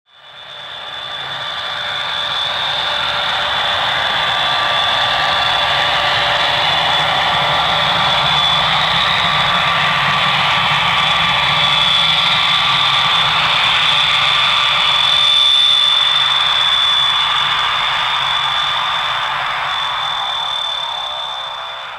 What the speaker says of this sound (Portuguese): Este é um Dart Herald da Sadia. É sempre agradável saber que os Dart Herald da Sadia podem decolar ou pousar praticamente em qualquer pista.